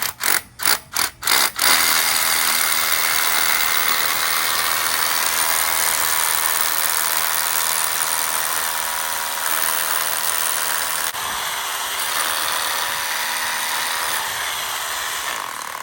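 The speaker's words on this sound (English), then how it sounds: "we're going to start drilling in the post shoes now" A power drill bores holes for post shoes during a lean-to pergola build, with the holes then fitted with rawl plugs. A few short, loud stop-start bursts give way to one long, steady, close-up grinding whine.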